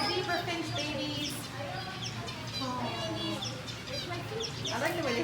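Zebra finches chirp in an aviary at Bird Kingdom, with many quick, high, thin peeps and chatters scattered over a constant low background hum, fairly close and steady throughout.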